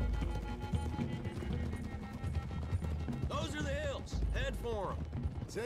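Several horses gallop in the video game Red Dead Redemption 2, with fast, driving hoofbeats under character dialogue and shouting, and a few sharp crashes near the end.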